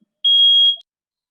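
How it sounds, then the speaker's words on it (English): A single loud, steady electronic alarm tone sounds for about half a second, high-pitched and piercing, starting and stopping abruptly with no voices around it. "Car alarm is going off and I have to evacuate the building."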